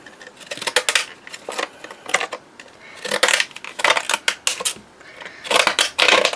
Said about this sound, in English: I'm going to use my little deckle edge scissors to cut with.